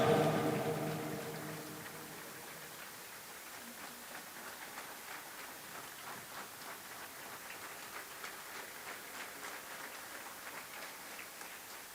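A church congregation applauds during a praise and worship service: dense, steady clapping, loudest at the start and then settling into a faint, even patter.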